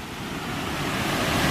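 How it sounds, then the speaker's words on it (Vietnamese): Rushing mountain stream swollen after days of prolonged rain, where two streams join downstream in a landslide-hit area; a steady, broad roar of water fills the short stretch without pause, close and full. "Và nước suối thì rất là to."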